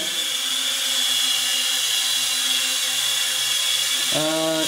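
A FLYHAL E69 mini camera drone hovers indoors with a continuous high-pitched whine of small propellers, steady and close, then a sharp pitch shift near the end as the motors change speed.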